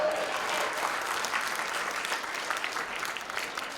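Audience applause during a stand-up comedy special, a dense wash of clapping that starts loud and holds steady before thinning slightly, with no talking over it.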